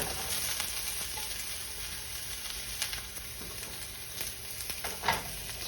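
Mushrooms frying in hot oil for a Chinese-inspired noodle soup, a steady, dense sizzle that holds evenly throughout with a few soft stirring scrapes, no voices.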